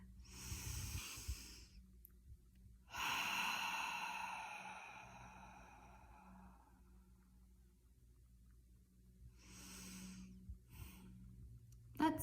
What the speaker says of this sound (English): Breathe that in.